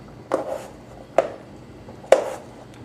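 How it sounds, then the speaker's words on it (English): Three crisp knife cuts slicing potatoes on a cutting board, evenly spaced and close by, each a short thud-like chop against a quiet background. "This is what slicing looks like."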